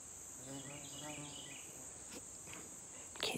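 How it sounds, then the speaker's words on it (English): Insects buzzing and chirring steadily in the woods, a constant high drone with faint scattered clicks and a brief louder rustle at the end. "Can't hear anything with this damn buzzing."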